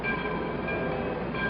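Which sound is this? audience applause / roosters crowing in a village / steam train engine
steam train engine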